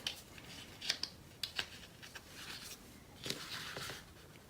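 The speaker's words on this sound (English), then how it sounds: "I'm just going to trim a little bit off of each side" Scissors trimming a little off each side of a glued craft piece, a few soft close snips and rustles spaced irregularly at low volume.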